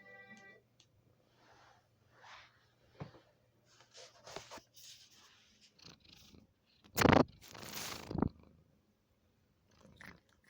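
A pet cat named Meridia purrs softly and close up with a faint low rumble, broken by scattered rustles and a couple of louder handling noises.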